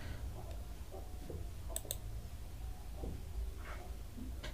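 A computer mouse clicks a few times, sharp and faint, over a low background hum while checking a benefit payment on a government website.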